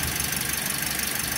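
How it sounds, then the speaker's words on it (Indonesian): A car engine idles steadily nearby, a low continuous rumble with a faint rhythmic pulse and no talking. "Ini masih dalam keadaan mesin mobil menyala"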